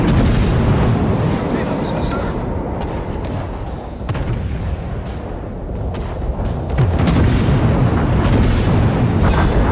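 Naval gunfire and shell explosions in World of Warships during a Halloween 2018 battle against a Rasputin battleship. Dense, continuous booms and rumbling blasts pile up loudly for the whole stretch, with a heavier burst near the end.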